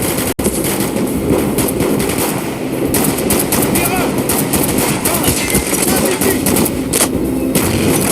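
Rapid machine-gun fire and gunshots in the Call of Duty Black Ops campaign, loud and continuous with shouted voices mixed into the battle noise.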